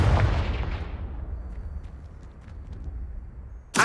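A Confringo fire spell explodes in Hogwarts Legacy with a loud booming burst that rolls away over a few seconds, followed by another sharp blast at the very end.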